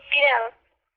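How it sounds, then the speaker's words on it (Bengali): A yellow cat trapped in a net lets out a single short, clear meow up close, rising and then falling before stopping abruptly. "হলুদ বিড়াল"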